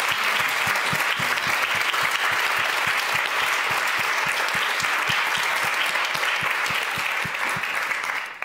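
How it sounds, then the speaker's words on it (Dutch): Audience applause closing a Dutch panel discussion evening on food, a dense, steady wash of many hands clapping at close range that continues evenly for several seconds before beginning to fade. "Een heel hartelijk applaus."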